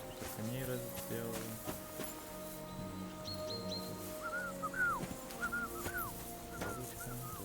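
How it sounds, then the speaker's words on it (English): A character named Tankard whistles a short, repeated melodic tune in the medieval game Kingdom Come: Deliverance 2, faint and set against background music and speech. "Tankard, stop with that. Your whistling is getting on my fucking nerves the whole way."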